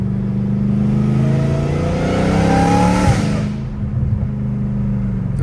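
A straight-piped Dodge Hellcat Redeye engine revs loud and close, a deep rumbling roar climbing and then dropping off as the throttle is released.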